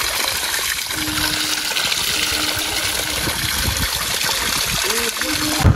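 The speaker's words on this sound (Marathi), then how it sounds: "आता तिथं ब्लोअर लावलेला आहे पाणी भरण्यासाठी" A water pump runs on a farm, filling water for crop spraying, giving a steady rushing, trickling flow of water with a voice talking over it.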